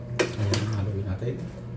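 Pinakbet vegetables with eggplant being stirred in a pot: scraping and clinking of a utensil against metal over a low steady hum, a short close burst of kitchen sounds.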